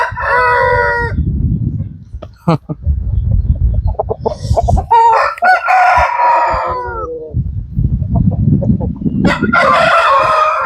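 Roosters, including a rare black-legged fighting cock, crow repeatedly up close, loud drawn-out calls coming in several bursts amid clucking and scuffling of farm fowl.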